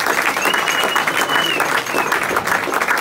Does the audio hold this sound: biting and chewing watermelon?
no